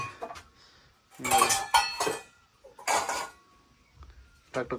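Dishes and pots clatter and clink in several loud bursts, with metallic rings and scraping between short quiet pauses, close by.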